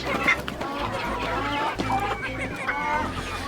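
Chickens cluck and murmur continuously nearby in an open-air run, a busy flock chattering with occasional louder calls over a steady low background hum.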